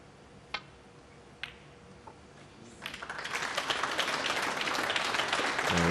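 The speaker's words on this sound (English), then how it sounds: "I've got smattering of applause" Scattered applause breaks out among the audience at a snooker match, starting thin after a few isolated clicks and building into steady clapping over the last half.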